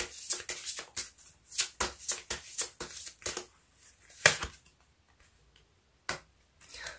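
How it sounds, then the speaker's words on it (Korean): Tarot cards are riffled and flicked in quick crisp bursts, a run of close papery snaps and slides that thins into a few isolated taps and a final card being pulled, quiet and without speech. "그럼 조언점 카드 하나 더 뽑아보도록 할게요."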